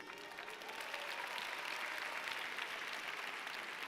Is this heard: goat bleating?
no